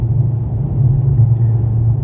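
Togg T10X electric SUV rolling over a rough road surface in summer heat, a steady loud low rumble of tyre and road noise with no voices.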